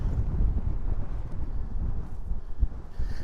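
Strong coastal wind buffets a drone's microphone along the Scottish coast during a storm, a loud, continuous rumbling roar with gusty swells and no talk.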